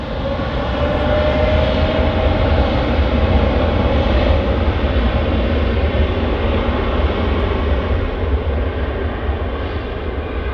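A Boeing Dreamliner roars steadily through its takeoff roll at Manchester Airport, a loud continuous engine rumble with a faint whining tone, holding even intensity without a break and no voices over it.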